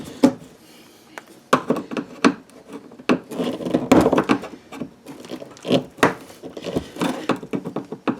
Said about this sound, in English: is I just pry off this edge